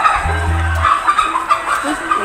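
Fighting roosters at a cockfight give off a few clucks and rough calls, set against a steady crowd murmur with several voices talking in the background.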